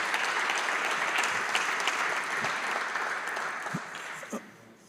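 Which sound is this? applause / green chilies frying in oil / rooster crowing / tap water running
applause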